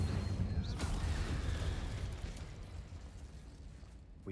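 A fire spell is cast in a wizard video game, a deep rumbling burst with a roaring, sustained whoosh that gradually fades over several seconds.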